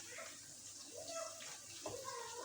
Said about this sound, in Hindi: ये मैंने इसमें पानी डाल दिया।